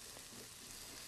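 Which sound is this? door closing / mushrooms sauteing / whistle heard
mushrooms sauteing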